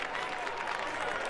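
Homecoming crowd at a high school football game between the San Angelo Central Bobcats and Frenship Tigers, cheering and applauding steadily as a dense, continuous wash of crowd noise, heard from a distance.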